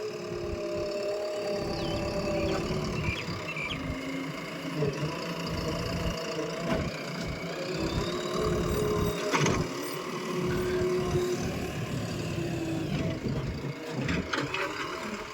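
A 50 HP Tech Plus 585 tractor engine idles in a steady, low mechanical rumble with a faint knocking rhythm, heard close and continuous throughout.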